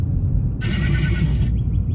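A horse neighs in an old radio comedy recording, a single loud, shrill whinny lasting under a second over a low background rumble, followed by a few faint trailing squeals.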